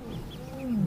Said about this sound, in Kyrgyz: Ал айланада дале болсо күркүрөп үн чыгарып жүргөн чоочун жаш арстандарды көздөй бет алды